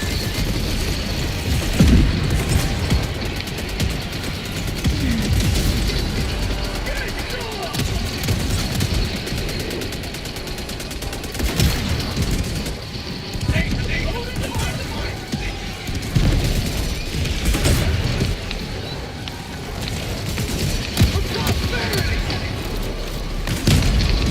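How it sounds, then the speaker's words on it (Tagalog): Gas orbital strike and sentry fire in the Helldivers 2 video game: dense, continuous booms and gunfire bursts rumble throughout, with repeated heavy thuds over a constant battle din. "Requesting orbital strike! Firing gas strike."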